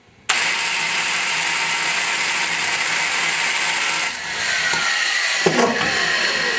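A valve seat cutter widens the 30-degree top cut on a Casting 441 ported cylinder head: a motor starts abruptly and runs with a loud steady grinding whir, dips briefly, then carries on with a sharp clank near the end.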